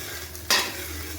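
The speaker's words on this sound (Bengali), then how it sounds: "এই যে ডিমটা কমপ্লিট হয়ে গেছে ভাজা" Fried egg bhurji being stirred in a pan while cooking mixed fried rice: a single short scrape of the spatula over a quiet, steady sizzle, close and fairly soft.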